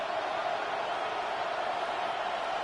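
Stadium crowd noise from an American football video game, a steady broadband roar of a large crowd that holds evenly throughout at a moderate level, with no clear cheers or spikes.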